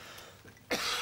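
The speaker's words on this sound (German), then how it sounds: "Ich habe einen solchen Hustenreiz." A single sharp cough breaks out near the end after a brief throat-clearing rasp, loud and close against a quiet room.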